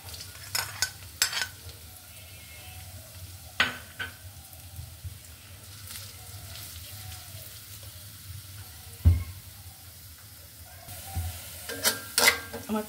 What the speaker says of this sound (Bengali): আমার পেঁয়াজ ভাজাটা হয়ে গেছে